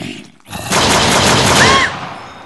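Sustained automatic gunfire in the Craft of the Dead zombie survival game, a loud dense burst lasting over a second after a brief quiet gap, fading out abruptly.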